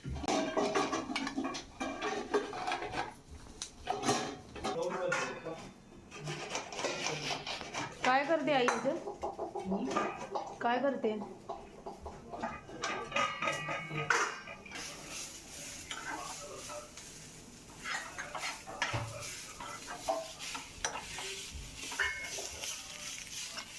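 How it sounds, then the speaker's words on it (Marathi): A spatula scrapes and clatters against a pan as onion is roasted until brown, irregular metallic stirring strokes heard up close over a busy household background. "चांगला ब्राऊन होईपर्यंत कांदा भाजायचा आहे"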